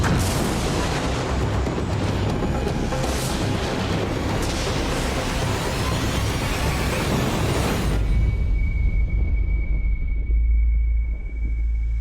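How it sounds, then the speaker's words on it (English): A loud, sustained roaring blast of a huge explosion in the Swiss Alps rumbles heavily for several seconds, then cuts to a deep lingering low rumble with a thin high ringing tone. "And suddenly there's a huge explosion."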